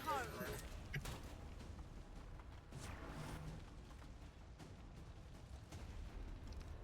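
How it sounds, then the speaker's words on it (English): A Shredstorm cannon fires in XCOM 2, its sharp, heavy bursts cracking out at intervals over a rumbling battle backdrop, with a voice present beneath. "That might just be now my Shredstorm cannon"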